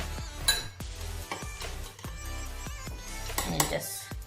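A metal spoon presses and clinks against chopped onions in a bowl during vinaigrette preparation, giving soft scrapes and several sharp taps at irregular intervals, close and moderately quiet.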